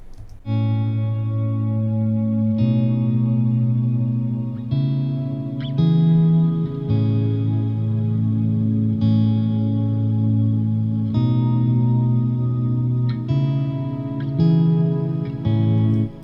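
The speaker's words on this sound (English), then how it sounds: "let's listen to the clean tone and then the crunch tone" Ibanez 7-string electric guitar playing sustained chords, first a clean tone then a crunchier, slightly driven tone, with echo and chorus-like shimmer; loud and close, no talking.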